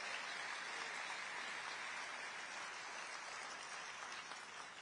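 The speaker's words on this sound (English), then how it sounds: "How about one big round of applause to thank their sponsors and welcome the" Distant audience applause at a Donald Trump event in Detroit fills the space as a steady, even wash of many hands clapping, faint and unbroken throughout.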